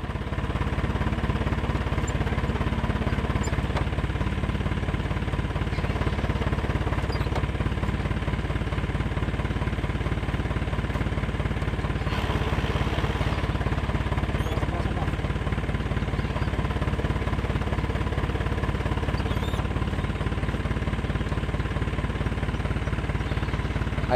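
An Isuzu 4HF1 diesel engine with a holed exhaust and loss of compression runs continuously with a steady, rough low drone, and faint voices are audible beneath it.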